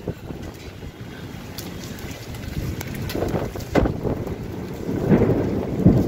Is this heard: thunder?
yes